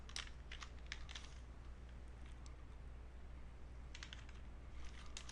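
Keys clatter on a computer keyboard in short, quiet bursts of rapid tapping separated by pauses, close by in a quiet room.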